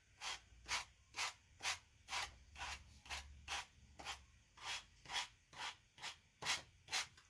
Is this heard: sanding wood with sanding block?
yes